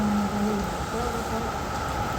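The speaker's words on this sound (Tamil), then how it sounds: "மழை பெய்யுது" Steady rain falls outdoors near a shop, a dense, even hiss that holds without a break.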